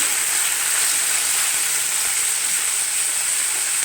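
Snake gourd sizzling in a hot pan, a loud, even hiss holding steady throughout at close range, with no voices.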